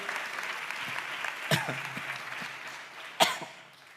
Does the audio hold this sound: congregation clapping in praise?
yes